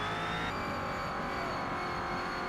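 A Next Gen NASCAR race car at Mount Panorama in Forza Motorsport drifts through a corner, its engine droning steadily and loudly with a constant high whine and a faint tire-skid edge, no voices.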